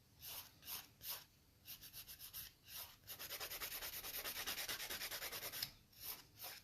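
A 180 grit nail file rubs across fingernails in close, soft rasping strokes, first in separate passes and then in a faster, steady run of back-and-forth scrapes.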